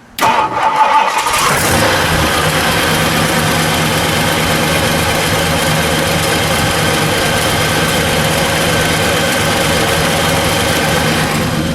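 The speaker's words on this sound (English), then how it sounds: "I'm going to listen to that idle for a second." A 1964 Ford Galaxie 500XL two-door hardtop with its 390 V8 cranks briefly, catches and settles into a steady, loud, close idle that runs on without talk.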